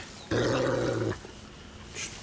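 A dog growls in the video game Far Cry 6, a low, rumbling snarl that starts abruptly, holds loud for under a second, then cuts off, leaving quieter game ambience behind.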